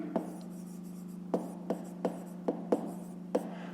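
Pen writing down a fifth-grade math answer on paper, a series of about eight short scratchy strokes and taps at an irregular rhythm over a steady low hum, close and fairly quiet.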